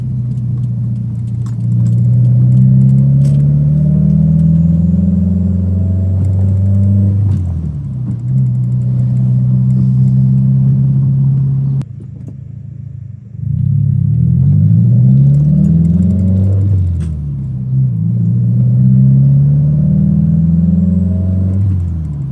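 A 2017 Subaru WRX idles just after a clutch replacement, a steady low rumble with a faint rattle. The engine briefly drops and cuts out partway, then resumes, close and loud with no talk.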